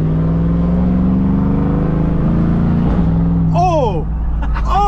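2008 Cadillac Escalade ESV with a 6.2L V8 accelerates hard, a loud rising engine drone heard from inside the truck, with excited voices exclaiming near the end.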